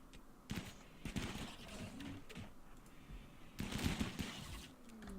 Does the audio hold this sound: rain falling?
no